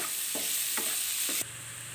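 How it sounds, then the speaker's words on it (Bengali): Sliced onions fry in hot oil in a pan for prawn malai curry, a steady close sizzle broken by three scraping stirs at regular intervals. "এই পর্দায় পেঁয়াজ বেরেস্তাটা আমার প্রায় অর্ধেক হয়ে আসছে"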